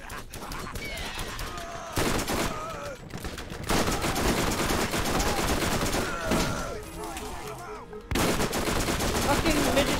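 Shotgun gunfire in Borderlands comes as loud, rapid bursts of blasts layered over dense game combat noise, with brief pauses between the volleys and excited shouting mixed in.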